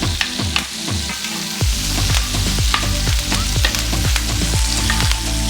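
Pork tenderloin fries in a pan with butter and garlic, crackling and sizzling loudly while a spoon or utensil scrapes and clicks in a steady rhythm as the fat is basted over the meat.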